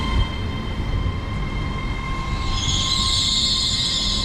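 A train passes through a station platform at Stevenage with a loud, steady rumble, then a high wheel squeal rises and holds near the platform, with no speech.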